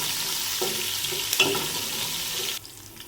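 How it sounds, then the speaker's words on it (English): Finely chopped green chilies stir frying in a pan, with a steady hissing sizzle and a couple of sharp stirring clinks before the sizzle drops off abruptly. "Add 6 to 7 finely chopped green chilies. Stir fry for 2 to 3 minutes."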